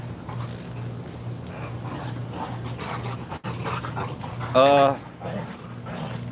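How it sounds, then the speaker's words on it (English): Three dogs scamper around in a back room, with panting, whimpers and a short loud yelp or bark near the end, heard beneath ongoing casual talk. "You got 3 dogs running around in the back."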